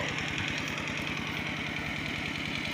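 An engine-driven pump draining a fish pond runs steadily close by, with a rough, low chugging rhythm and a constant mechanical drone that stays even and loud throughout, with no voices.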